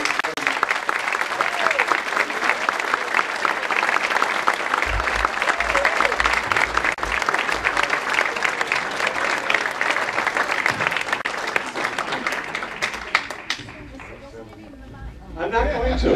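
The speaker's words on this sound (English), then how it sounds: "Appreciate your applause." Sustained, loud applause from the audience at a Glen Ellyn Jaycees 50th anniversary celebration for a scholarship award recipient, dense clapping for about thirteen seconds before thinning out, with faint voices beneath.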